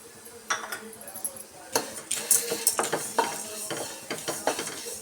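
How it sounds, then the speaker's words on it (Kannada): Poha and chana dal frying together in a pan for laddu, stirred briskly so a spatula scrapes and taps against the metal in quick irregular bursts over a soft sizzle, close up with no voices. "ಇವೆರಡು ಸೇರಿಸಿ ಚೆನ್ನಾಗಿ ಸ್ವಲ್ಪ ಕ್ರಿಸ್ಪಿ ಆಗೋ ತನಕ ನಾವು ಫ್ರೈ ಮಾಡ್ಕೊಬೇಕು."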